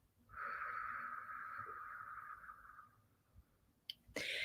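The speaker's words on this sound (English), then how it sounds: "And breathe out." A single slow, audible exhale during a breathwork exercise, a soft breathy whoosh lasting about two and a half seconds, fading out, followed by a faint click and rustle.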